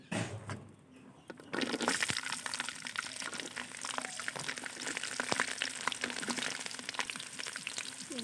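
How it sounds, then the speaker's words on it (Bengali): Whole garlic cloves dropped into hot oil for an olive pickle: a quiet opening gives way after a second and a half to a loud, dense, crackling sizzle that keeps bubbling close up. "এবার আমরা প্রথমে দিয়ে দেব আস্ত রসুন"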